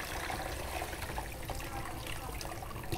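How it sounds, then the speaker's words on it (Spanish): Water from steeped banana peel tea pours through a kitchen strainer, a steady, close splashing trickle that runs continuously for a few seconds, fairly soft and without speech. "vamos a utilizar un colador para separar lo que es el agua que contiene los nutrientes de"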